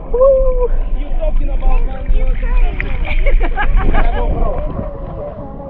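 Steady wind rushes over a boat at sea off the Rosario Islands near Cartagena, Colombia, a constant low roar throughout, with people talking and a cheer over it.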